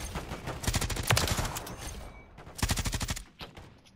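Two loud bursts of Ram 7 assault rifle fire in a video game, each a rapid string of close, punchy shots, separated by a short pause, followed by a few trailing single shots.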